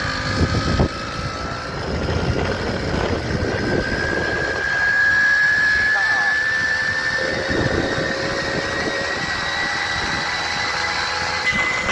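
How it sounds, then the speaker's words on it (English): Tomos A35 moped engine revving as it accelerates slightly uphill, a steady close buzzing drone with a rising whine throughout, loud and continuous with no talk. "we're going slightly uphill now and it's accelerating quite well."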